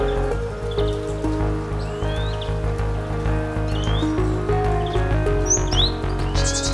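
Rain falls steadily outdoors near a village on the way to a waterfall, a constant patter with birds chirping now and then over it.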